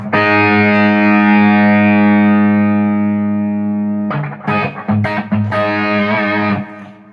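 An electric guitar runs through a Naylor Duel 60 amp into a 4x12 cabinet loaded with Vintage 30 speakers: one loud, slowly fading sustained chord, then several choppy, punchy strums.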